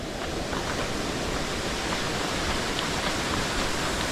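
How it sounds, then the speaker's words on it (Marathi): A small waterfall in the green Konkan countryside rushes as a steady, dense roar of flowing water, continuous and unbroken with no voices. "पाण्याचा आवाज इथून सुद्धा एक छोटासा धबधबा आहे खाली इथे"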